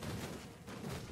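Burning explosions from Grim Dawn gameplay, heard as a dense, continuous rumble of blasts with steady loudness throughout the short stretch and no talk over them.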